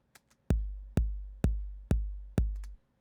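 Five deep, punchy electronic kick drums with no low cut hit at a steady pace, each with a booming low-end body and quick decay, preceded by a couple of faint clicks.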